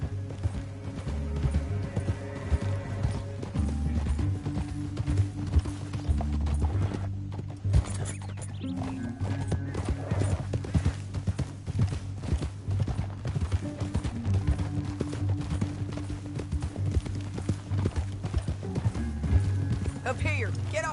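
Horse hooves clip-clop at a steady trot through the Red Dead video game, blended with a continuous musical score and occasional voices talking.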